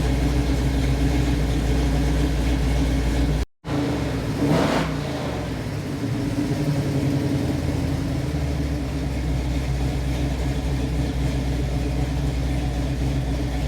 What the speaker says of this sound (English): I think it runs way better now that it has a functioning oxygen sensor